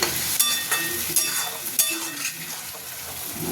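A little water goes into a pan of fried spices with ridge gourd and potato for a shrimp chorchori. It gives a close hissing sizzle with sharp bursts and a few scraping stirs that slowly settle.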